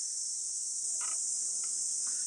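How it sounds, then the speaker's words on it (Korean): Cicadas singing on a summer mountain trail on Jeju, a continuous high, steady buzzing drone close by, with a few faint soft knocks underneath. "여러분 매미 소리 들리시죠?"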